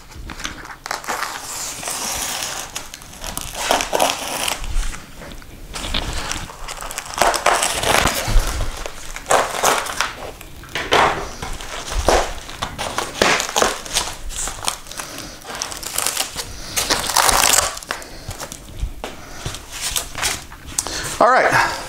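A cardboard shipping box holding a DIY headless guitar kit is cut open and unpacked, giving continuous crinkling, rustling and tearing of packaging, close and fairly loud, for the whole span.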